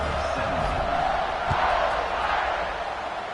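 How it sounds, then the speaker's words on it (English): Football stadium crowd keeps up a dense, steady roar with a brief louder swell midway, as a kickoff is about to happen. "You think this crowd's going to get loud when their defense comes on the field?"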